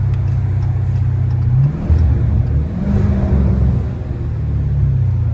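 Dodge Challenger Scat Pack with the 392 V8 revving hard and accelerating on city streets in Philadelphia at night, a loud, steady low engine roar that rises and falls through gear pulls, with no talking.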